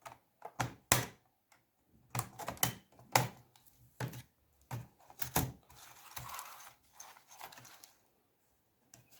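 An HP 15-R214NT laptop keyboard is freed from its retaining clips with a series of sharp plastic clicks and snaps, irregular and close, with scraping in between.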